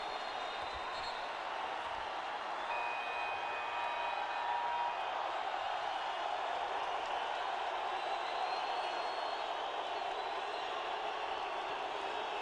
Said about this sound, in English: the crowd is appreciating the running and the gunning from Venezuela